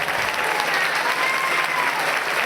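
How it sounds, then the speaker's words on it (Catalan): Steady, dense applause from a crowd at a band presentation event, loud and continuous throughout with no voices on top. "un aplaudiment per ell, de tot cor."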